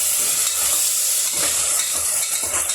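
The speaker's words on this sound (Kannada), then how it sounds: "ಇದೆಲ್ಲ ಹಸಿ ವಾಸನೆ ಹೋಗೋ ತನಕ ಫ್ರೈ ಮಾಡ್ಕೊಳ್ಳಿ" A ground masala paste fries in a pan for a mushroom biryani, giving a steady close-up sizzle with soft scraping stirs throughout and no voices.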